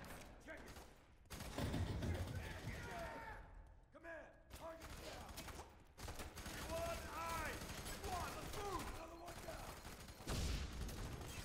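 Gunfire in the video game FEAR 3, bursts of loud rapid shots and thuds coming in waves, with players talking over the firefight between volleys.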